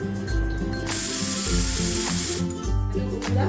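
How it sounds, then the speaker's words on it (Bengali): A kitchen pressure cooker whistle hisses loudly in a steady high jet of steam, broken into two long bursts, under a rattling, ratcheting clatter from the valve while Bengali soybean and ash gourd shukto cooks. "এখন আমাদের দুইটা সিটি কমপ্লিট হয়ে গেল।"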